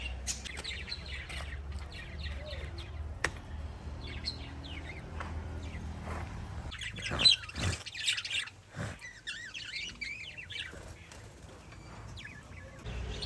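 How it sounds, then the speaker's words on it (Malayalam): Pet birds at home chirp and tweet in quick, scattered bursts nearby, with bright calls rising over a quiet background and a few soft knocks. "ഞങ്ങളുടെ വീട്ടിൽ കുറേ കിളിയാളുണ്ട് കുറേ കിളിയാളെ കാണാം"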